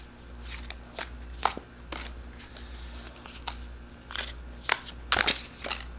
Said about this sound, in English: I will start shuffling here